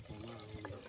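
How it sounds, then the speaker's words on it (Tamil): Water poured into a pot while cooking elephant foot yam soup, a brief faint splashing trickle. "தண்ணி ஊற்றுறோம்."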